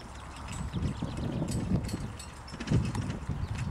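Horses trot through a riding lesson, their hoofbeats a steady, busy rhythm of soft, near clip-clop over a broad, continuous arena noise, with no clear talk over them.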